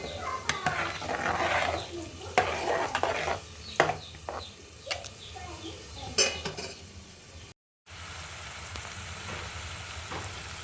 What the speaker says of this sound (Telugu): అన్నం కూడా ఒకసారి తిప్పుకుందాం